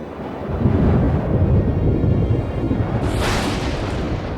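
A deep, continuous rumble of cartoon thunder from an approaching storm rolls on throughout, loud and heavy, with a brief hiss rising partway through.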